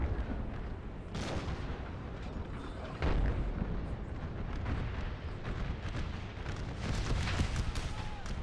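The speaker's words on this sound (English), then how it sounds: "that is some nice artillery helping suppress the enemy" Artillery fire in Napoleon: Total War, with an American Civil War mod recreating Gettysburg: dense, continuous rumbling battle noise with scattered booms and a heavier blast around the middle, layered over a constant roar.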